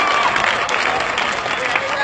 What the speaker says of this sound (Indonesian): Tepuk sikit untuk belakang.